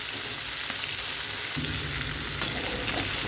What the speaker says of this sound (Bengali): তো চিকেনটা ভাজা হয়ে গেছে এরকমভাবে ভেজে নিতে হবে